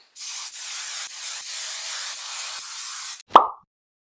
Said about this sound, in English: then spray with hairspray